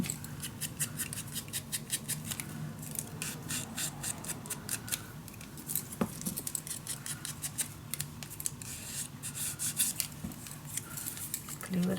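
Scissors cutting paper for a handmade winter mini album, quiet close snips and slicing strokes in quick runs with brief pauses, plus faint handling rustles and no talk.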